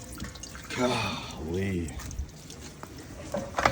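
Water sprays from a burst hose on a sewer jetter, a steady broadband hiss running throughout while someone talks over it.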